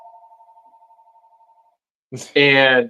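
A phone rings with a steady pulsing electronic tone, which then cuts off before a person starts talking loudly close by.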